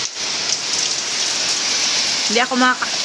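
Heavy rain pours steadily in a dense hiss during a typhoon in the Bicol Region, with strong wind and a brief voice speaking near the end.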